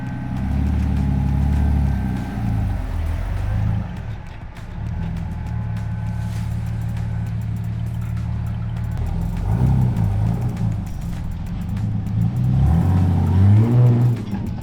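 A Jeep TJ engine revs and idles through Banks torque tube headers into a MagnaFlow exhaust, a loud, steady low rumble with swells and surges of throttle near the end, no talking over it.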